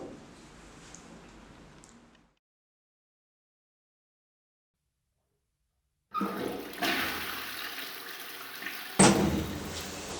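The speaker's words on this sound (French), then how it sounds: "j'ai ouvert la fenêtre et tiré la chasse" Toilet being flushed indoors, a faint rush first, then a pause of near silence before a louder surging, gurgling flow of water that swells again toward the end.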